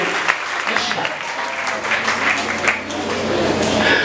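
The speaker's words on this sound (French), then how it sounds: "Acclame le Saint-Esprit." A church congregation applauds at a worship service, dense sustained clapping mixed with voices and cheering, loud and continuous.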